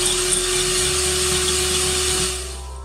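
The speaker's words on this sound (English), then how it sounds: "And next, just going to whisk it." Vegan meringue mixture being whisked with an electric whisk, a steady loud motor whine running continuously, then easing slightly near the end.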